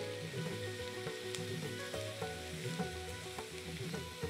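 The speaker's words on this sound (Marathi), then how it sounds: "अर्धा कप गाजर घेतले किसून. ह्याला आता जरा असं परतून घेऊयात." Grated carrot sautés in a pan for veg kheema, a steady soft sizzle with frequent scraping stirs and small taps throughout, fairly quiet and close, with no speech.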